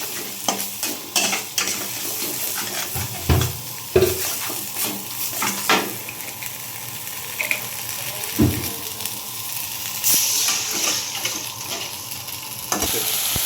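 Spiced rohu fish curry is stirred and sautéed in a pan, with a steady close sizzle and repeated scraping strokes of a spoon. Louder clanks and knocks come at intervals, and no one speaks.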